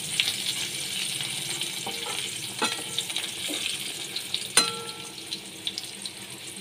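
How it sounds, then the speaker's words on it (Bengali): Cut potato pieces fry in hot oil in a pan, a steady moderate sizzle with occasional sharp metallic clinks and no voices. "আলুগুলো আমি ভেজে নিচ্ছি। লাল করে আলুগুলো আমি ভেজে নেব।"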